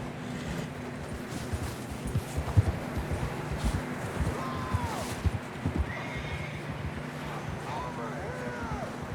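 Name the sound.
horses neighing and hooves clip-clopping in Red Dead Redemption 2 video game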